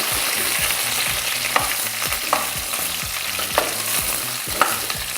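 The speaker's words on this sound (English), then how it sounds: "Just stir this a little" Garlic sizzles in a hot pan while a utensil stirs it in a steady rhythm, with a few sharp scrapes and taps against the pan standing out over the constant frying hiss.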